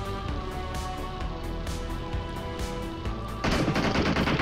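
Rapid gunfire rattles in PUBG Mobile, a steady stream of sharp shots over game ambience, then a louder, denser burst near the end.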